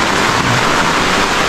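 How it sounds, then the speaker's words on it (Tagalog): Steady rain falls on a riverside campsite in Pangasinan, with a tarp rigged overhead, a loud, dense, continuous hiss close by and no voices. "Pero ito, umuulan na."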